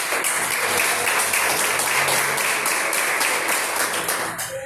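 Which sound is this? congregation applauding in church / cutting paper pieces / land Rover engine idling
congregation applauding in church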